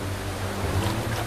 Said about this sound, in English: The gushing waterfall further upstream seems insurmountable.